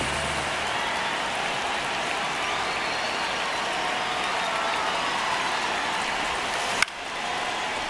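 In a 9th-inning MLB The Show 26 baseball game between Tampa Bay and Detroit, a stadium crowd roars in a steady, broad wash of noise, broken by a brief sharp click near the end.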